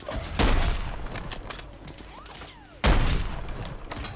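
Sniper rifle shots ring out in Call of Duty Warzone, two loud, sharp cracks about two and a half seconds apart, each trailing into an echo over quieter ambient game noise.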